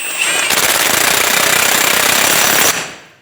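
Axle nut being run down on a Chevrolet Silverado 2500 HD with an impact wrench, a loud close rapid rattling burst of about two seconds that stops abruptly, with no talking.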